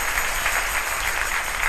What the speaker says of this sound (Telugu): చప్పట్లు కొట్టి దేవుని మైపరచండి.